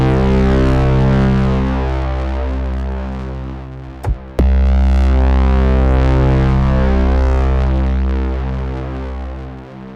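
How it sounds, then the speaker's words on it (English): Massive synth braam impact built in the Vital synth, its wide harmonic stack driven hard through a dirty filter for gritty distortion; the sustained roar cuts briefly around the middle, then swells back and slowly fades. "So I like to switch it over to a dirty so we can drive it and get some more distortion."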